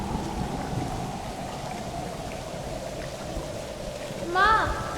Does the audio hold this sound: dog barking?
no